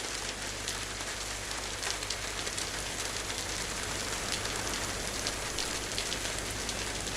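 Rain falls steadily in the video game DayZ on the Livonia map as a dense, even hiss of drops hitting surfaces, continuous and moderately quiet throughout with no talk.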